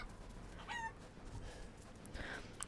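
Chickens clucking in the video game Resident Evil 8: a few short, faint clucks and squawks over a quiet, hissy game background, with no talk.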